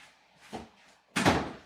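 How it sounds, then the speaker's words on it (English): A door is shut: a soft knock or bump comes first, then a louder, fuller slam about half a second later, heard up close with no talking. "You got to shut the door."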